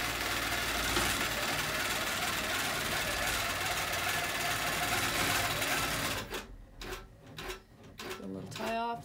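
A sewing machine quilts an outside circle stitch with a steady, fast hum that stops after several seconds, followed by a few clicks and faint talk.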